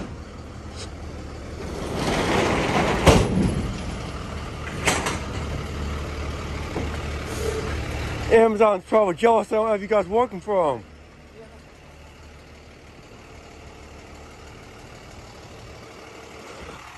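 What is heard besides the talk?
International truck idling with air brakes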